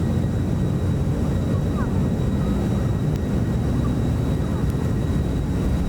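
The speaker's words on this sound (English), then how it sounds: "Reverse thrusters. There they go." An airliner's reverse thrusters roar steadily after touchdown in the X-Plane 11 flight simulator, a dense, continuous engine rush with no break.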